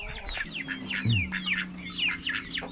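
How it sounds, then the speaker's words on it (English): A rooster and chickens on a farm cluck and chatter in a steady run of short, rising calls, close by, with a faint low hum underneath. "let me show my rooster."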